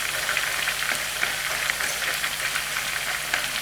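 Canned spinach fries in a pan while being stirred, giving a steady close hiss of sizzling with faint scraping strokes, even in loudness and without voices.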